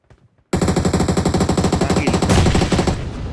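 Rapid bursts of automatic gunfire in PUBG Mobile, a loud steady volley of repeated shots lasting about three seconds after a short quiet start, with no talk over it.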